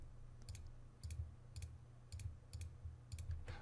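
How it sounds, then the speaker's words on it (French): A computer mouse clicks quietly at a desk during Revit modelling work. About seven crisp, isolated clicks come at a loose, fairly even rhythm over a faint background hum. "Je clique sur mes éléments."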